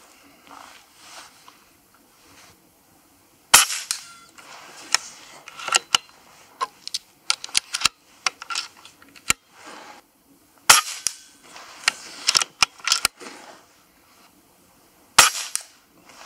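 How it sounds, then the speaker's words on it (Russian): Sharp, snappy PCP air rifle shots crack out one at a time, scattered across the span, with faint handling noises between them, during long-range shooting outdoors in wind. "Сейчас так сделаем выстрел."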